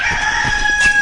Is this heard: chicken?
yes